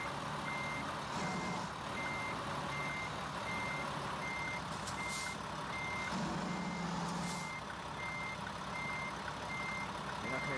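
Reversing alarm beeping steadily at regular intervals as a truck backs up to a loading dock in American Truck Simulator, with a low engine rumble running underneath throughout.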